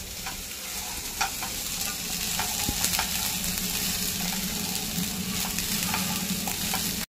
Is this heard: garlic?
yes